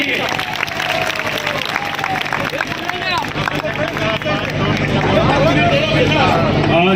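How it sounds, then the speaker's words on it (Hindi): Crowd at a Maha Vikas Aghadi election rally in Bhiwandi West clapping for candidate Dayanand Chorghe; sustained applause and crowd babble swell, with voices talking and shouting over it. "बार तालियां बजाओ दयानंद चोरगे जी के लिए।"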